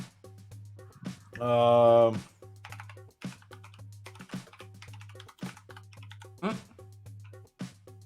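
Fingers tap a computer keyboard in quick, irregular bursts of close, crisp clicks, with a brief stretch of voice over the typing.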